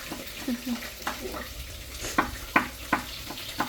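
Food sizzles and crackles in a pan, with a few sharp stirring clacks of a utensil against the pan near the end.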